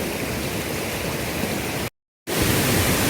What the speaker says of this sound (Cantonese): 前面又有個大瀑布。